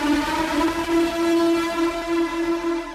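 A Moog synthesizer drone fed through an Old Blood Noise Screen Violence pedal, modulated by a sensor, sustains a steady buzzing tone with shimmering overtones and slow wavering throughout, loud and alone.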